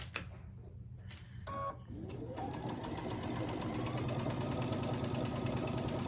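A sewing machine joins quilt block pieces, charm-pack squares paired with background fabric; after a few quiet handling sounds it runs up to a fast, even, rhythmic stitching whir that continues to the end.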